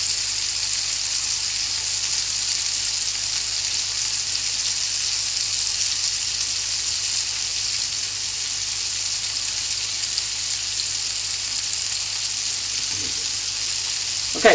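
Burger patties sear in a hot pan with a loud, continuous sizzle and hiss, steady for the whole stretch, ending in a brief clatter.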